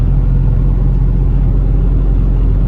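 Steady low engine rumble and road noise from an LS V8-swapped 2004 BMW 320i cruising on a mountain drive, heard from inside the car at a constant, loud level with no talk.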